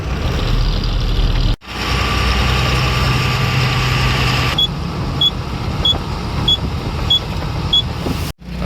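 A vehicle engine idles loudly and steadily nearby before being driven to a shed, a constant rumbling drone, later joined by a regular series of short, high electronic beeps.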